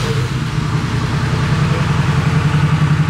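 A 331 stroker V8 engine idles steadily with a deep, even low rumble, loud and close, with no talking.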